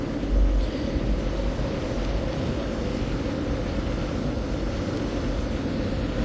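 Steady, loud engine drone of the passenger launch MV Yad-1 near Sreepur point on a river run toward Dhaka, overtaking another launch; a constant low rumble fills the whole stretch with no voices.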